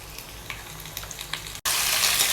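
Vegetables for a mixed vegetable dhal hit hot tempering oil, giving a steady close sizzle with small crackles, then a brief cut and a louder burst of frying.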